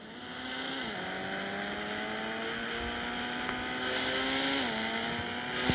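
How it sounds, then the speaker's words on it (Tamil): A car in Indian Bikes Driving 3D carries a motorbike-style engine sound: a steady, buzzing drone that rises, drops briefly twice during gear changes, and continues throughout. "காருக்கெல்லாம் பைக் சவுண்ட் கொடுத்துருக்காங்க"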